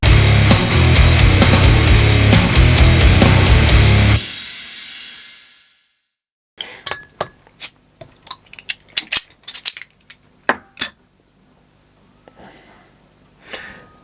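A bottle of Ruddles Best Country Ale being opened, a loud music bed fading out, then after a pause a close series of sharp metallic clicks and clinks from the cap and bottle, ending with faint rustling.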